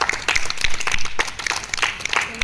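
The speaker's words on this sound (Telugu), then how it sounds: "ఇప్పుడు మనం రోహిణి ఫైట్కు క్లాప్ చెప్పాలి" A class of students claps hands together, a scattered burst of many quick overlapping claps from nearby that keeps going unevenly for a couple of seconds, with no talking over it.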